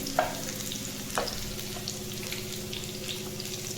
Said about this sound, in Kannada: ಬೆಳ್ಳುಳ್ಳಿ ಚೆನ್ನಾಗಿ ಹೈಲಲ್ಲಿ ಫ್ರೈ ಆಗಿ ಕ್ರಿಸ್ಪಿ ಈ ಥರ ಆಗಬೇಕು